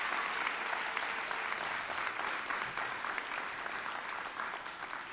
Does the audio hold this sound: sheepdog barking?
no